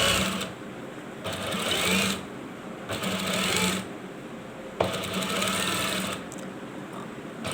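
A sewing machine stitches a two-piece collar in short, rapid bursts, its mechanical whir starting and stopping repeatedly with brief pauses between runs.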